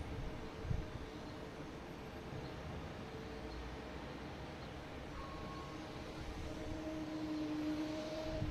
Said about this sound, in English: Next taking off is at Cape Air, heading to Martha's Vineyard.